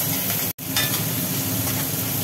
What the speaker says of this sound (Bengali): চিংড়ি মাছগুলো নুন হলুদ মাখানো আছে, এগুলো দুটো দুটো করে ছেড়ে দিলাম তেলের মধ্যে